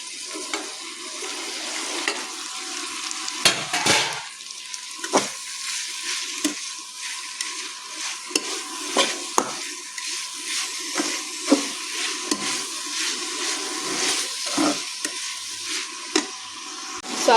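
Tomatoes sizzle and fry in a pan, a steady hissing bed broken by repeated scraping clacks as they are stirred, close and fairly loud with no voices.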